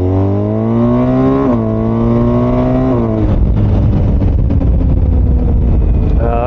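A BMW R1250GS motorcycle accelerates hard, its loud engine note climbing in pitch through two quick gear shifts before giving way to a rough roar of engine and wind.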